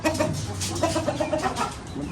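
Chickens clucking at feeding time close by, a busy run of short, repeated clucks over a low background hum, with no voices.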